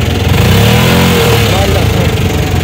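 A used auto rickshaw engine running on LPG, loud and close, with a rough, steady mechanical chugging. Voices talk over it.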